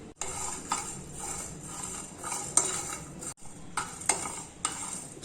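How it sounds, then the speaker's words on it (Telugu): Dry coconut, coriander seeds and cumin dry-roasting in a pan, a soft crackle under repeated metallic clinks and scrapes of a spoon stirring against the pan, close and fairly quiet. "సో దాంట్లోకి కొంచెం ఎండు కొబ్బరి, 1 టేబుల్ స్పూన్ ధనియాలు, 1/2 టేబుల్ స్పూన్ జీలకర్ర ఇవి వేసుకొని వేయించుకుందాం."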